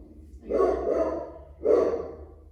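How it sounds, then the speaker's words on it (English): A dog barks twice, loud and close, each bark drawn out with a roughened edge, separated by a short pause. "you'll have to excuse my dog."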